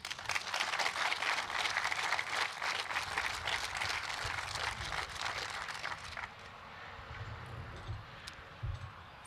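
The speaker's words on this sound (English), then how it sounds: "Please give a big round of applause to our great Lieutenant Governor" A crowd at a Mohawk Valley ribbon-cutting ceremony applauds for Lieutenant Governor Kathy Hochul, dense and steady for about six seconds before dying away to a few soft thumps and murmurs.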